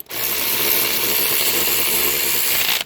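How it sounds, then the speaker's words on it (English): A power tool, likely a drill or impact driver, runs in one continuous loud whir while tightening a 10 mm bolt on a 2017–19 Chevy, close up and alone without talk. "So I'm putting the bolt, the 10 millimeter bolt,"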